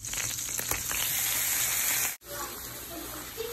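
Chicken pieces frying in melted butter in a pan, a loud continuous sizzle and hiss close up, with a short sharp break near the end.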